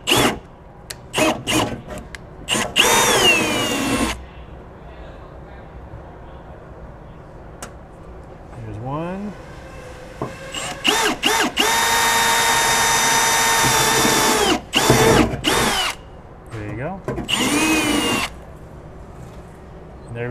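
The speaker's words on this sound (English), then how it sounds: "Then using a 3/8 drill bit, or if you guys don't have one of these, you can use the smaller size, working your way up, and we start drilling." Power drill boring holes with a 3/8 drill bit while mounting a tire carrier on a GX470: repeated loud bursts of whirring drilling, several seconds long, separated by pauses, with someone talking between bursts.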